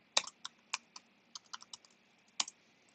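A command is typed on a computer keyboard in a few quick bursts of crisp, close key clicks, with short irregular pauses between them, alone in a quiet room.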